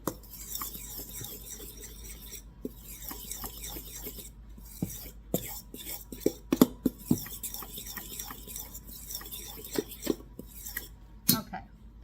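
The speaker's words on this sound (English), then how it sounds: "I'm going to take a fork and blend together the dry ingredients." A fork scrapes and clinks against a bowl while blending dry ingredients with cinnamon for snickerdoodle cookies, with irregular close scratching strokes and sharp metallic taps over a quiet room.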